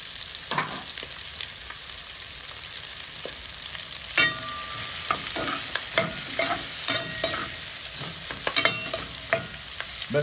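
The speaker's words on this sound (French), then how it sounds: "Je laisse bien mon oignon suer pour le crevette." Onion sweats in a pan for a prawn sauce, giving a bright continuous sizzle close by, punctuated by repeated scraping and tapping of a utensil stirring, busier in the second half.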